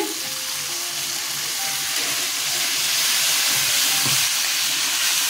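Water poured into hot, oil-releasing fried spice paste for a chhanar kofta curry sets off a loud steady hiss and sizzle of steam, with faint clinks under the continuous rush.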